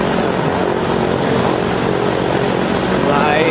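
A Minecraft flight simulator airplane engine drones in a steady, loud propeller-like roar throughout, with a faint rising whine near the end.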